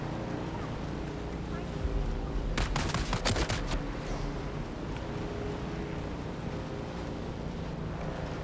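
Gunfire rings out in a shootout in the video game Dune Awakening. A short, rapid volley of shots arrives in the middle, set against a constant roaring wind-like rumble.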